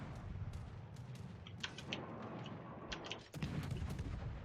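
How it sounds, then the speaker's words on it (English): Warship naval guns firing in World of Warships, with deep booming shots and rumbling blasts rolling under busy battle noise, several sharp cracks scattered through a dense, low, distant-sounding barrage. "Firing openly against the Baltimore now"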